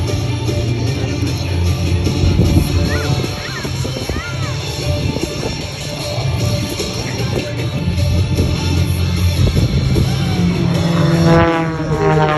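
An MX aerobatic stunt plane performs at an air show, its propeller engine droning steadily and surging as it manoeuvres, with a commentator talking over a PA and a brief rising whine near the end.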